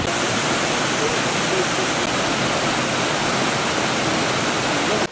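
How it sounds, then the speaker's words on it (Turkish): Çağlayandibi waterfall in Kürtün, Gümüşhane, roars as a dense, continuous rush of falling water, loud and unbroken throughout, drowning out everything else. "Çağlayan dibi şelalemiz Gümüşhane'nin Kürtün ilçesi Yeşilköy sınırları içerisinde bulunmaktadırlar"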